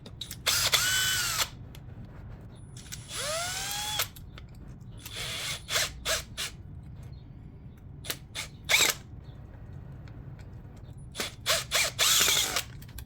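A cordless drill whirs in several short bursts, some rising and falling in pitch as it spins screws out of a lithium iron phosphate battery casing, with clicking between bursts.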